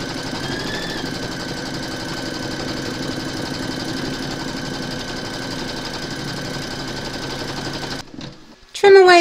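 A Brother embroidery machine stitching a round that secures batting in a hoop for a large whimsical Santa design, giving a steady, fast, close mechanical whir that runs unbroken for about eight seconds before stopping with a few clunks.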